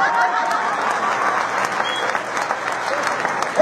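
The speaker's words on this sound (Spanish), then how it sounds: "Aplausos." Applause from the audience at a live comedy show on a touring humor caravan, a thick, continuous wash of clapping from a large crowd, sustained and fairly loud throughout.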